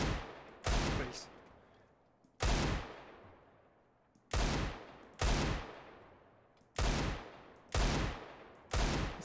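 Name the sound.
Desert Eagle pistol shots in a video game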